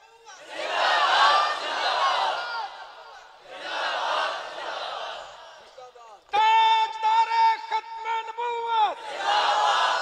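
A large crowd at an outdoor religious gathering shouting a slogan in unison, two long loud roaring bursts, then a sustained amplified tonal call over the PA, followed by another crowd roar.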